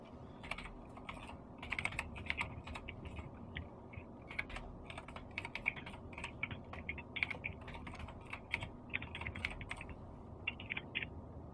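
Someone types on a computer keyboard in quick irregular bursts of key clicks with short pauses between them, close and crisp over a low room hum.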